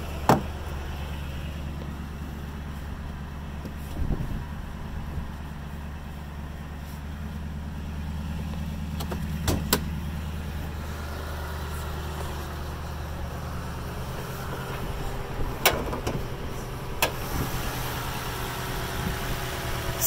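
A 2017 Toyota Tundra 5.7-liter engine idling with the hood open, a steady low rumble throughout with a few faint clicks and knocks, no talking.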